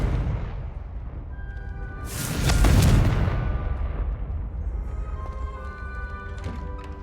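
A Confringo fire spell explodes in Hogwarts Legacy, one loud booming blast with a crackling burst that swells and fades over a steady background of game ambience and music.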